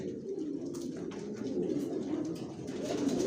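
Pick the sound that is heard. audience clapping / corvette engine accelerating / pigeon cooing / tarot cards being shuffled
pigeon cooing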